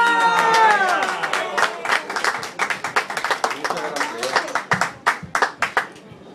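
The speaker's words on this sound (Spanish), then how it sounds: "Un aplauso y muchas gracias." Applause with cheering at an award ceremony honoring a couple, starting with loud voices and whoops, then settling into rhythmic, fairly sparse clapping from a small gathering that gradually thins out.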